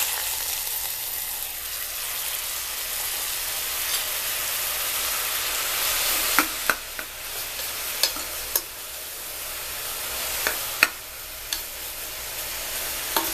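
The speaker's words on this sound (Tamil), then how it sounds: "அதை வந்துட்டு பச்சை வாசம் போக ஒரு 2 நிமிஷம் நெய்யில் வந்துட்டு வதக்கணும்" Grated ash gourd sautés in ghee for halwa with a continuous soft hiss, broken by sporadic sharp scrapes and taps of a spoon stirring the pan.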